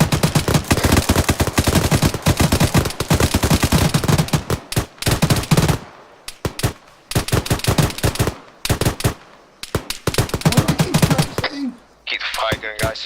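Sustained machine-gun and rifle fire in ArmA 3 during a British military simulation training exercise, loud dense bursts that thin into scattered shots with brief pauses.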